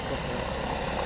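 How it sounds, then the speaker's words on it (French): A helicopter lifting off from a hospital makes a loud, steady rotor and engine roar that fills the whole moment without letting up. "Excusez-moi pour le bruit, mais il y a un hélico qui part de l'hôpital."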